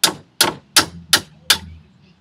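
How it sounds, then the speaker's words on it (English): A hammer strikes a wrench five times at an even pace to break a brake bolt loose during a brake job, each blow a sharp metallic clang with a short ring, close and loud with no talking. "I like to put the wrench on it, apply a little bit of tension, and then hit it with a hammer until it breaks."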